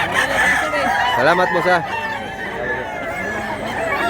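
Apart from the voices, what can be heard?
rooster crowing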